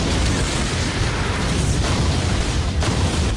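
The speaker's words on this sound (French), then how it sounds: "Explosion dévastatrice de lion!" A Beyblade special attack blast from an animated film, a dense, roaring explosion that stays loud and sustained throughout without pause.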